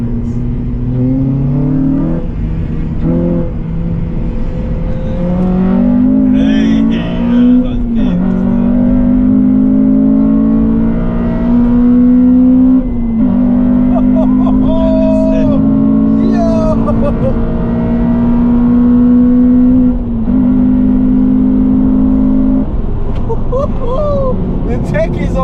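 A Honda Civic Type R FN2 fitted with a Tegiwa exhaust and HKS intake drives around the block, its engine droning loud and steady with gear changes and rising revs, while voices talk inside the cabin.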